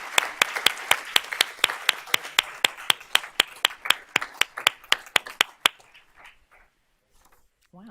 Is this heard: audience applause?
yes